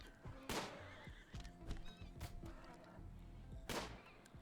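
A horse neighs twice in the Rimworld video game, loud whinnies at the start and near the end over a busy backdrop of thuds and game effects.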